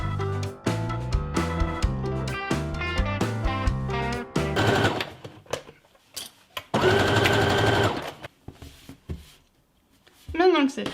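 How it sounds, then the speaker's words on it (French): Domestic sewing machine running a zigzag stitch on a t-shirt, rapid rhythmic stitching in several close bursts separated by short pauses, with a brief voice near the end. "on va venir coudre ça au point zigzag de la machine à coudre"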